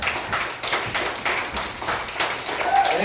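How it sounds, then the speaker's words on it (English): A small audience at Jandro's claps after a love poem is read, a bright, even patter of hands that swells slightly in waves over three seconds with no talk on top. "Applause, applause. All the applause."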